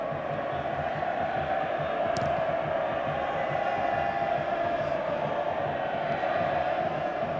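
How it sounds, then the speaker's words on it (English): Dense stadium crowd noise from the packed stands at the 1995 Toyota Cup match between Ajax and Gremio, a steady roar of massed voices with a chanting quality, continuous and even throughout, with no commentary over it. "Cries of Gremio from the mass ranks here"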